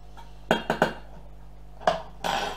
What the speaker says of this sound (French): On rajoute sa petite casserole.